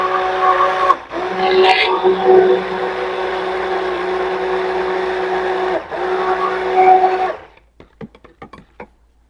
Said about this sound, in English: I'm going to use my stick blender before I start pouring it into my colors